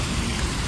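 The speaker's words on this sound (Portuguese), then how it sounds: "E a noite terminou em chuva." Heavy rain falls during a nighttime storm, a steady dense hiss of drops hitting surfaces with a faint low thump near the end.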